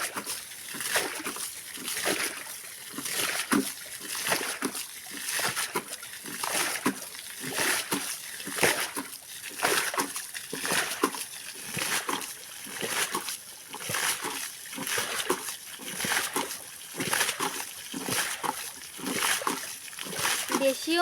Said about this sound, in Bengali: আর মাছগুলো কেমন লাফাচ্ছে।